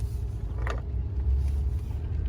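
Ford F-150 pickup with a transmission problem, put in gear and driven slowly on a test drive, giving a steady low engine and drivetrain rumble with a brief creak near the start and no talking.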